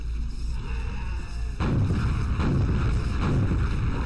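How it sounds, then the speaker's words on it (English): Rockets launch in the video game Quake, a booming blast that kicks in abruptly and holds as a loud, dense rumble with repeated thumps, taking over from a steady ambient drone. "Fire a few rockets."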